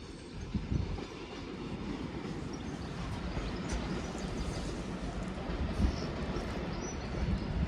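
A train rumbles past on the rails at Crewe station with steady clattering and rolling noise, fairly close and continuous, with occasional faint squeals.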